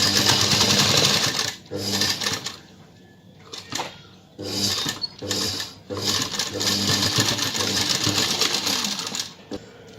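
A sewing machine stitching a net lehenga blouse runs in loud, close bursts of rapid mechanical chatter, stopping briefly between runs as the fabric is adjusted.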